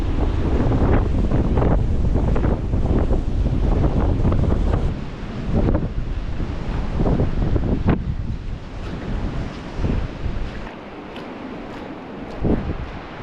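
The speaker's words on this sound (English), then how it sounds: "It's too windy, so I don't think you can hear me" Strong winter wind on a countryside walk in Cumbria buffets the microphone in loud, rumbling gusts, with a surf-like roar underneath that eases somewhat toward the end.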